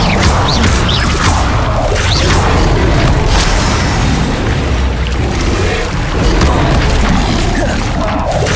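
A fire spell, Incendio, in the wizarding game Hogwarts Legacy: a loud, continuous roaring burst with booming, crackling textures that holds steady for several seconds, without speech.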